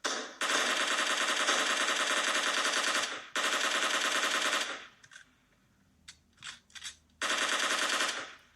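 Bursts of rapid automatic gunfire from a video game, played on a OnePlus Nord 2 phone, rattle in long sustained strings, broken by a pause with a few short scattered shots before another loud burst.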